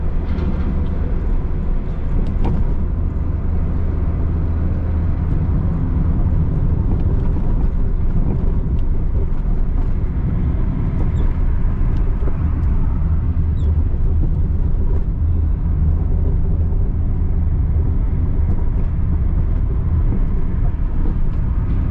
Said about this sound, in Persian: خیابون ماشین داره میلرزه، فکر کنم صداش بیاد بهتون.